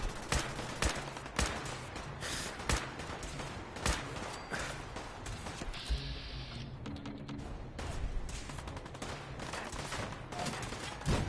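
Turrets and soldiers open fire in Fallout 4, with dense bursts of automatic gunfire cracking steadily throughout, heavy overlapping shots and thumps forming a continuous barrage at close range.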